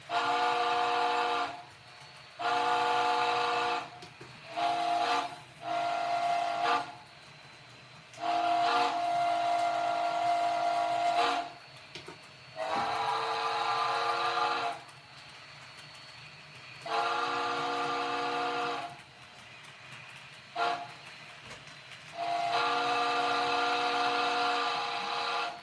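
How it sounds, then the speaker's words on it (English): An Illinois Central three-chime train whistle sounds in a series of deep, rich blasts of varying length, some short and some held for a couple of seconds, loud and clear with short gaps between and no talking. "That was a very deep sounding whistle"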